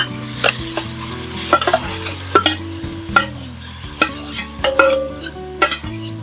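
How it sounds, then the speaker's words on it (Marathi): Grated red pumpkin sautéing in ghee in a pot, with a steady sizzle under repeated scraping and clinking of a spoon stirring against the metal pot, close and fairly loud. "दोन चमचे तुपावर लाल भोपळ्याचा किस घालून परतून घ्यायचा आहे एक दोन मिनिटं तुपावर परतून घ्यायचं आहे"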